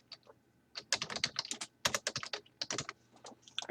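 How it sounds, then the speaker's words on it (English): Quick bursts of keystrokes on a computer keyboard, close and clear, pausing briefly between runs of typing. "I just type in whatever the organization may be"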